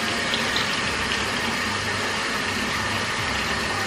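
Tap water runs continuously into a bowl at a kitchen sink, filling it with a steady, fairly loud rushing splash that holds constant throughout.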